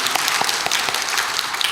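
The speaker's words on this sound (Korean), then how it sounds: "우리 박수할까요?" A church congregation at a mothers' prayer meeting applauds to welcome a newcomer, a dense, steady wash of clapping with a few sharper individual claps standing out, no talk over it.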